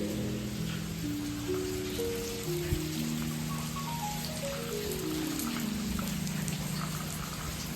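Steady rain hisses evenly throughout at Bhaje Caves near Pune, with faint sliding tonal notes drifting in the background.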